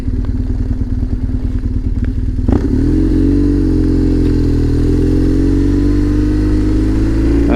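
A newly acquired motorcycle being ridden, its loud close engine drone holding steady throughout, with a rough clattering stretch early on, a thump, and a smoother sustained tone after the rider pulls away.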